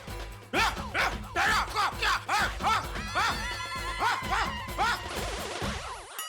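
A dog barks in loud, repeated yelps and woofs inside a family home, one bark after another across several seconds, close and prominent with little pause between them.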